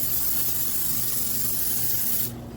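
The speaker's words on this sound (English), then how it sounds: "I'm going to go ahead and spray my tins here, at least one of them." Extra virgin olive oil cooking spray hisses in one continuous close burst into egg bite tins, then cuts off abruptly near the end.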